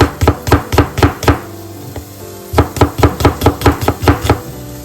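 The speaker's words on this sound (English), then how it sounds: "Finely sliced onions." A knife slices onions finely on a cutting board in quick, rhythmic chops, a fast burst of evenly spaced strikes, a short pause, then another steady run, close and crisp.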